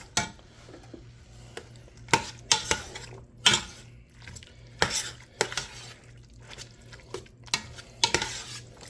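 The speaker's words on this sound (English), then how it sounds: "Give it another stir." A spoon stirs chili in a steel pan, giving a string of scattered scrapes and clinks at close range with irregular spacing. No one speaks.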